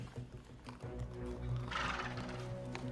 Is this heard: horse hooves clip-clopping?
yes